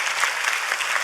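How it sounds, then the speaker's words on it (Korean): An audience at a Korean history and culture forum claps warmly for musical creators, a brief, even burst of many hands, fairly loud and close. "여러분의 큰 박수로 청해 듣겠습니다."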